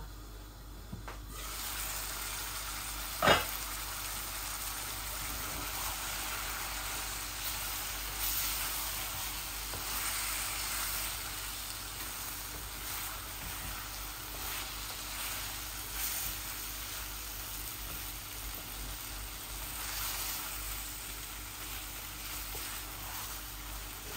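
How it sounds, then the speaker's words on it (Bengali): Potatoes frying in a pan for a fish and potato curry, a continuous low sizzle running the whole time, with one sharp clink early on and no voices. "এই যে আমার আলুগুলা ভাজা ভাজা হয়ে গেছে"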